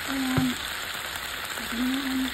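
Kangkong seasoned with salt and vinegar sizzles steadily in a pan, close and continuous, with a faint tonal squeal near the start and again near the end.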